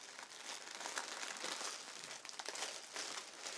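DC Comics merchandise is unwrapped from its package, with plastic wrapping crinkling and rustling steadily and close up throughout. The sound is faint and there is no talking.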